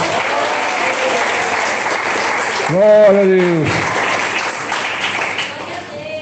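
Church congregation clapping hands loudly and continuously, with a voice calling out partway through and other voices over the clapping.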